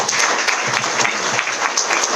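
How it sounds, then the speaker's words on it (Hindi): Audience at an IMC business plan gathering breaking into steady, dense applause, many hands clapping together at a fairly close, even level with no talk over it. "मैं चाहता हूं एक जोरदार तालियां उनके लिए।"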